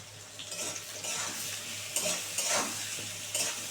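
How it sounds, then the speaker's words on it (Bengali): Cabbage frying in a pan with salt and turmeric, a steady sizzle under repeated scraping stirs from a spatula, close and fairly loud throughout. "এবার এটা সুন্দর করে ভাজবো"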